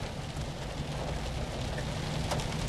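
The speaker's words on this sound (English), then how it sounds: "Melissa, we just arrived in Goddard and we're starting to hear just little tiny hail hitting our station vehicle as we're driving here on Kellogg's." Tiny hailstones patter steadily on a station vehicle as it drives along a road near a storm. The tapping is dense and continuous over a broad hiss of road noise and weather.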